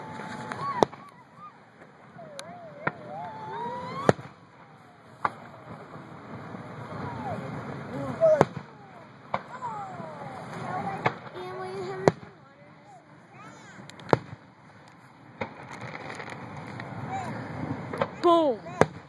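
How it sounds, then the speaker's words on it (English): Fourth of July fireworks going off: repeated sharp booms and crackles at irregular intervals, fairly distant, with people chatting throughout. "Here's the fireworks I'll put on."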